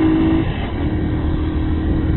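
A Hero XPulse 200 FI motorcycle engine drones steadily at close range during a test ride in Colombia, holding a constant buzzing pitch with slight rises, no voices over it.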